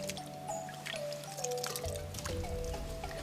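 Cool spring water trickles and drips at the source of the Paraguaçu river, a soft, close, continuous liquid sound with small squishy splashes and no talking.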